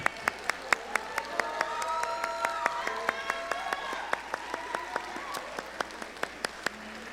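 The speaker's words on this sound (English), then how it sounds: "One more round of applause for the concert" An audience at Springdale High School's spring band concert claps with scattered, sparse applause, with sharp individual claps spread across the moment over murmuring voices and talk.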